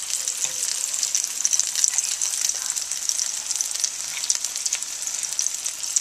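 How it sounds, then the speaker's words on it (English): Potato croquettes fry in hot canola oil with a steady bright sizzle and crackle, close and continuous with no voices. "And they're frying up nice."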